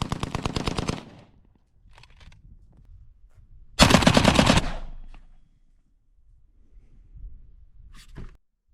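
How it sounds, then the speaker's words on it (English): Russian AK-74 rifle in semiautomatic fire: a rapid string of sharp shots, then a louder close burst near the middle and a single later crack, with quiet gaps between. "I'm just doing a silly video of me shooting one of my favorite rifles."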